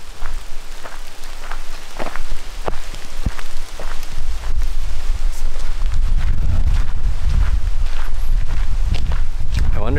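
Steady rain patters outdoors on a trail, growing heavier, with footsteps and gusts of wind buffeting the microphone; a voice speaks briefly over the constant wash of drops.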